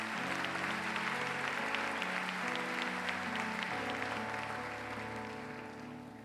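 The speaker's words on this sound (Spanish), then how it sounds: "Vamos a darle un aplauso al Señor por esta familia." A church congregation applauding in praise, steady clapping mixed with sustained music tones, fading slightly toward the end.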